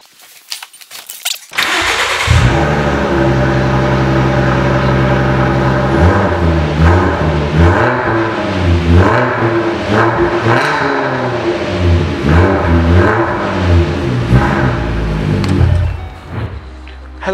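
A 2010 Ford Mustang with a 3.7 V6 and automatic transmission cranks briefly, fires up loudly and settles into a steady idle with a few blips of revving, heard up close.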